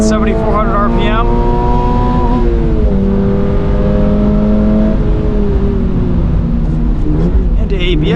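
A 2024 Subaru BRZ tS on a wet Road America track climbs through the revs to a hard fuel cut near 7,400 RPM, loud and steady from inside the cabin, the note rising in pitch and then dropping back as it bounces off the limiter.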